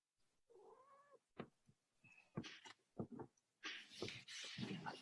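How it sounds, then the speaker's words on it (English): A cat meows several times nearby, the calls short and varied, mixed with small rustles and bumps in a quiet room. "Cat."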